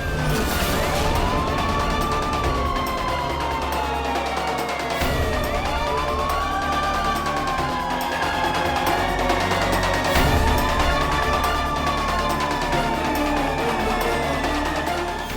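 A toy imitating a police siren wails in three long rising-and-falling sweeps over roughly fifteen seconds, loud and continuous against a dense noisy background.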